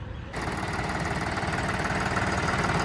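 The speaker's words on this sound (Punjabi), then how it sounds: "ਆਹ ਟਰੈਕਟਰ ਆਇਆ ਆਪਣੇ ਕੋਲ 5405" A Mahindra-style 5405 tractor engine idles close by, a steady, loud diesel chug with a rapid knocking pulse that starts abruptly and then holds even throughout.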